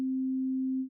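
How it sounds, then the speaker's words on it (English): A Six Sines synthesizer plays a single pure, steady sine tone, low-pitched and clean, sustained for nearly a second before fading out quickly. "And you can see the sine wave."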